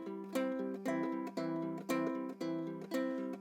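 A baritone ukulele is picked in a repeating pattern, strings 4 and 1 plucked together followed by string 3, a steady rhythmic cycle of bright notes played close and quiet.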